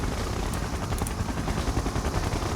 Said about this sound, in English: Siege chopper, checking in. Airborne artillery.